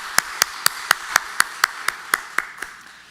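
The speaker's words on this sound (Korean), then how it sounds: "우리 성가대를 위해서 한번 우리 박수로 격려해 주시면 고맙겠습니다" A church congregation clapping in slow, even unison for the choir during a Sunday worship service, about a dozen sharp, evenly spaced claps ringing out clearly.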